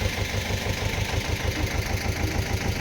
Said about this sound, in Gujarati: ખેડૂત ટ્રેક્ટર રાખે છે અને ભૂરીયો ઉપર ચડીને ઊભો છે.